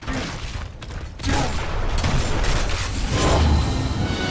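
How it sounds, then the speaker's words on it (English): Gunfire in a Gears of War execution match, a burst of loud close shots and booms over dense game noise, continuing through the moment. "His first shot got me bright red, and his second shot would have most likely killed me"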